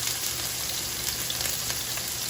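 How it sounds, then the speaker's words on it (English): A New York steak sears in a hot pan, giving a steady, dense sizzle that holds evenly throughout at close range with no voices. "So you want to give them a nice sear."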